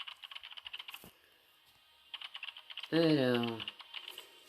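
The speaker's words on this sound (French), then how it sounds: "Machine à écrire." Rapid key-like clicking of a typewriter being decoded in the video game Identity V, in short rhythmic bursts, with a brief spoken word between them.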